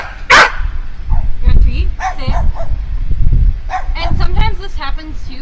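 A show dog gives one sharp, loud bark close by, followed by softer yips and whimpers mixed in with people talking.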